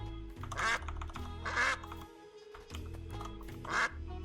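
Duck quacks from the video game Duck Detective: The Ghost of Glamping, three loud close quacks over a background hum and light keyboard-like clicks.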